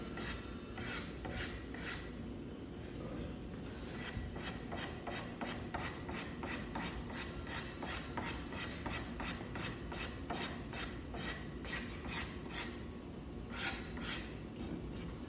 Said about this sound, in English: It can be hard to start a hard scraper at the edge